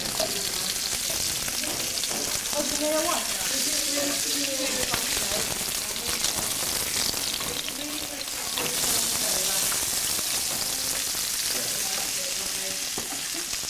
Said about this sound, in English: I'm stir frying the vegetables to cook them halfway